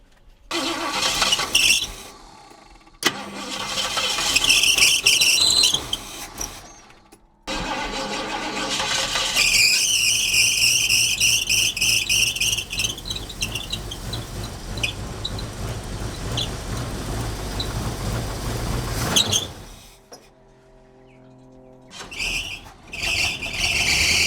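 A Ford Ranchero engine fitted with a Holley carburetor cranks in loud bursts separated by short silences, then catches and runs rough for about ten seconds before dying. Another cranking attempt follows near the end.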